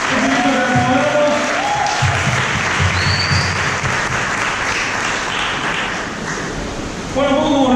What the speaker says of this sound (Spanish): ese aplauso no es para mí, pero si es para Cristo, obvio que tiene que ser más fuerte